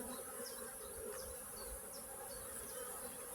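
Honeybees buzz steadily at an open beehive during a hive inspection for disease, a dense close-up hum with individual bees zipping past, no voices.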